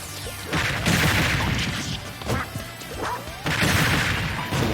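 Clay pigeons struck in Super Smash Bros during a Duck Hunt fight: several loud, sharp smashing hits in quick bursts over busy game effects, with no talking.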